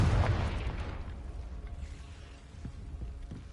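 A Confringo blasting-spell explosion goes off in Hogwarts Legacy, a loud booming burst at the start that rumbles and fades over a few seconds.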